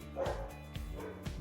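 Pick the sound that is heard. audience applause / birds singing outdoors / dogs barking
dogs barking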